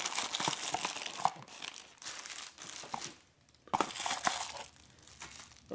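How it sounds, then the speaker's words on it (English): Plastic tray packaging from an ORSKEY dash cam box crinkles and rustles close by in bursts, with short pauses between handling sounds and no speech. "continue to remove the rest of the items from the box packaging"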